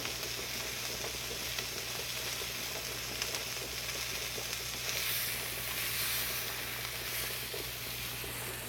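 A Texas-style steak sears in a hot pan, a close, steady hiss and sizzle that swells slightly midway, with light stirring and no talking.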